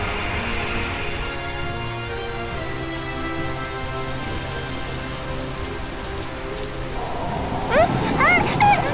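Steady rain pours down in an animated scene, a continuous hiss of drops with soft background music underneath and brief higher tones near the end.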